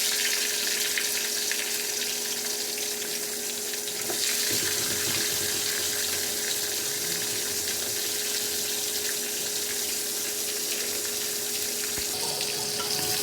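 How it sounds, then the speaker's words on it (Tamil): Onions frying in a pan with mustard seeds and curry leaves, a steady close sizzle with a constant hiss and a faint tone running throughout, and no talking. "வெங்காயம் நல்லா வதக்கிக்கலாம்."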